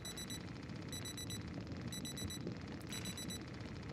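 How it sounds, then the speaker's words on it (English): In-game alarm in the zombie survival game Project Zomboid: a faint, distant electronic beeping in repeated bursts of rapid beeps, over steady low background rumble, with no talking. "Oh, there's an alarm going off."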